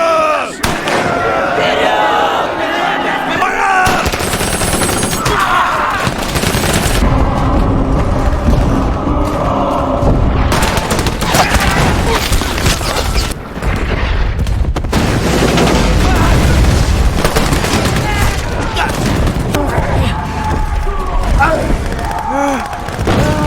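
War-film battle scene with gunfire and explosions: dense, loud bursts and booms crowd together over shouting soldiers and a roaring din, continuous and chaotic throughout.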